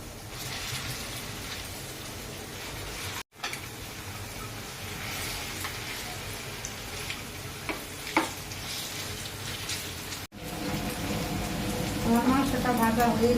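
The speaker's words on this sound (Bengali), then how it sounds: "প্যানে 1 কাপ সয়াবিন তেল দিয়ে দিলাম। মাংসটা ভেজে নিব আমি।" Chicken pieces frying in a pan of soybean oil, a steady soft sizzle and crackle with occasional stirring scrapes, fairly quiet and close, without talk.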